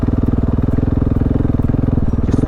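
Motorcycle engine pulling hard on open throttle off-road, a loud close pulsing thump of firing strokes at a steady fast rhythm, no speech.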